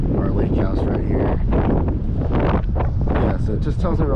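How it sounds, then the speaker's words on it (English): Wind gusts across a lake during kayak catfishing on High Rock Lake, buffeting the microphone in a steady, close, broadband roar that runs the whole time while a person talks over it. "sorry if it's a little windy right now"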